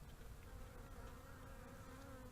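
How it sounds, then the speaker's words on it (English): Bees swarm and buzz steadily around a top bar hive being robbed out, a dense continuous hum with no talk. "we have bee activity"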